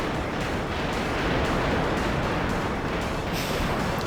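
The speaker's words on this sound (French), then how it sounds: "même les explosions sont assez pixelisées" Explosions in the Power Rangers Rita's Rewind video game merge into a dense, loud, unbroken roar of blasts that fills the whole stretch without pause.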